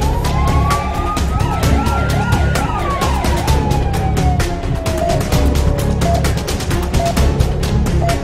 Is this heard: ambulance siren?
yes